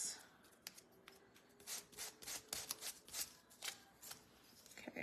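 Sanding the face of a handmade highland cow craft insert, a series of short dry scratchy rubbing strokes in uneven bursts, close and fairly quiet, with no voices.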